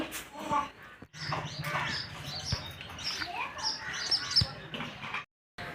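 Small sparrows chirp in quick, faint bursts near a nest inside a pipe at a village home, with scattered knocks and rustles and a short silent gap.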